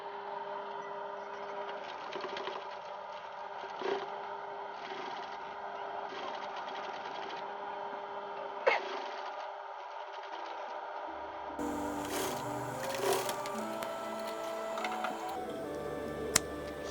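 A sewing machine stitches fabric in rapid, steady mechanical bursts with short pauses between runs, at a faint level, joined later by a brighter hum and a few clicks.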